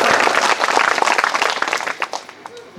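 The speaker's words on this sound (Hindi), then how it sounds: "इनके लिए एक बार जोर से तालियां बजाओ ना" A crowd at a Shrimad Bhagavat Katha religious gathering claps loudly and continuously in dense, sustained applause that fades slightly toward the end.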